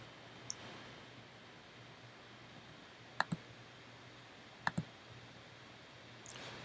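Computer mouse clicks while moving through assessment questions: a few sharp, isolated clicks, mostly in pairs, spaced a second or more apart against a quiet, faintly humming room.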